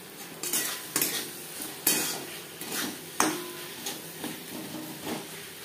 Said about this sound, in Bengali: টমেটোর কাঁচা গন্ধ যাওয়া পর্যন্ত নাড়াচাড়া করে নেব।